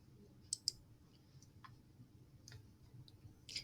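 Computer mouse clicking on a library webpage: a few sharp, quiet clicks spaced irregularly over a faint, hushed room background.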